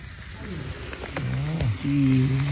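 Prawns rubbed with salt and turmeric go into hot oil, setting off a steady crackling sizzle, with some low wavering tonal sounds over it.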